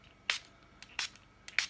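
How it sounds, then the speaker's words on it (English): A small spray bottle spritzing water onto glossy card: three short, crisp hissing spurts spaced about half a second apart, close and fairly quiet, with faint clicks between them. "Spritz a little bit of water"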